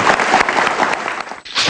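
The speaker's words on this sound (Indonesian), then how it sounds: "tepuk tangan dong." Studio audience applause on a talk show, a short dense burst of clapping that dips briefly and then swells again.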